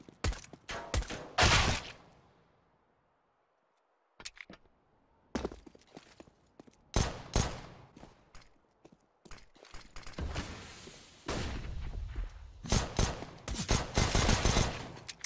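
Gunshots from a P250 pistol in a Counter-Strike style shooter match, sharp cracks arriving in scattered bursts and clusters, some overlapping with other game noise and footsteps, loud and close.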